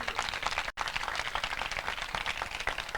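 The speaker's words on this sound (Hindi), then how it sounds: "जोर से ताली बजा के परमेश्वर की महिमा करें।" A church congregation claps loudly during a sermon, a dense wash of many hands beating fast and unbroken at close range, with one split-second gap near the start.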